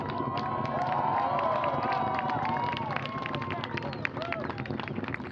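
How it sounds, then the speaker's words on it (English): Crowd of spectators at NASA's Wallops Flight Facility cheering an Orbital ATK rocket liftoff to the ISS, a dense, steady roar of many voices with whoops and shouts throughout, fairly loud and continuous. "Crowd watching the launch at Wallops there, cheering its liftoff."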